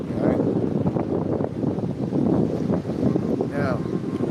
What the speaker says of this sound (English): I know it's kind of windy and stuff.